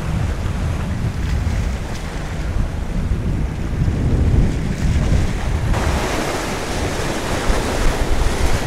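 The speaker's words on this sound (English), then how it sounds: "Ooh, that wind." Wind buffets the microphone over waves breaking at a shoreline while fishing for speckled trout, a loud continuous rumbling wash that swells and thickens in the second half, with no voices.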